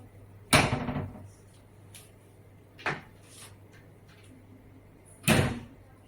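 Three separate wardrobe door closings, each door pulled shut by a magnet with a sharp click-thud, spaced a couple of seconds apart in a quiet room.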